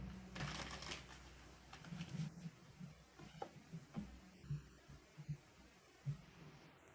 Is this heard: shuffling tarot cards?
yes